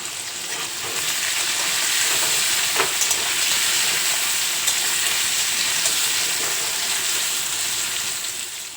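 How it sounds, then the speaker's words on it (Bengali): Potatoes frying in hot oil with salt and turmeric for a pointed gourd and prawn dish, a loud steady sizzle that swells early and holds, with faint stirring clicks and no speech. "আলুগুলো ভাজার জন্য দিয়ে দেব সামান্য নুন আর সামান্য হলুদ গুঁড়ো"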